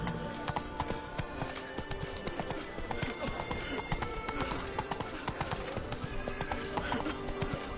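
Roach the horse galloping in a video game, a dense, fast rhythmic clip-clop of hooves running continuously with occasional neighs, close and prominent.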